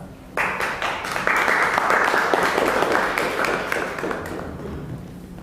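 An audience at a Toastmasters public speaking meeting applauds a member, a steady wash of many hands clapping at moderate distance that builds quickly and fades slowly.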